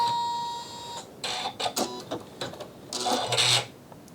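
A Janome Skyline S9 sewing machine runs in short mechanical bursts, whirring and clacking as it sews a single stitch and then stops, close up with no voices.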